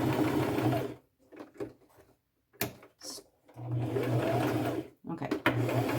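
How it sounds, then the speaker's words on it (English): Sewing machine running a small straight stitch on a thrifted dress, humming in steady bursts that stop and restart, close by with a voice talking during the pauses. "Now I'm going to use a fairly small straight stitch and just begin sewing."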